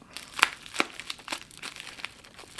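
Plastic packaging around a nail product crinkles close by in a few sharp, irregular crackles as it is handled and pulled open.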